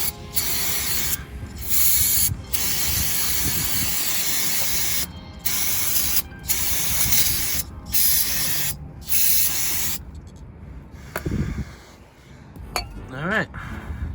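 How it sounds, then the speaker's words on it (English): Brake cleaner sprays in repeated loud hissing bursts onto engine parts of a 2016 Chevy Impala LT during an oil change, close by with short gaps between bursts, then quieter clinks and handling of metal. "I usually just use brake clean, so I'm gonna do that"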